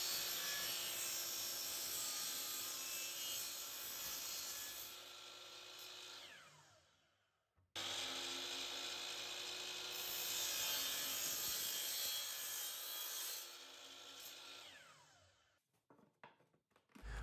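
Power saw trimming a T-track piece for a cross cut sled: two long, loud, steady cuts with a high whine, each winding down at its end, followed by a few faint clicks.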